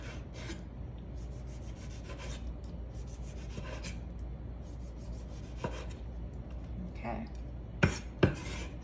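Knife cutting across sliced tomatoes on a board for salsa, with steady soft rubbing and scraping strokes throughout and two sharper knocks of the blade near the end.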